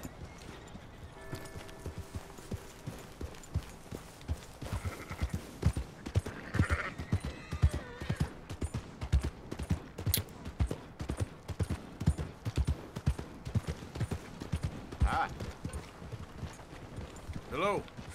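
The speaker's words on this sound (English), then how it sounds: "I'm gonna get on my horse." Horse hooves clip-clopping steadily while riding in Red Dead Redemption 2, a continuous rhythmic trot that stays fairly close, with brief rustles and other game sounds, while someone talks over it.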